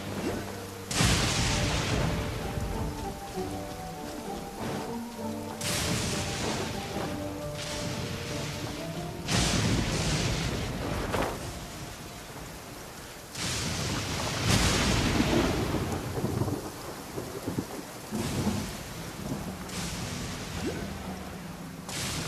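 Heavy rain falls in the Genshin Impact video game, a steady dense hiss broken every few seconds by deep booming thunder rolls. No voices are heard.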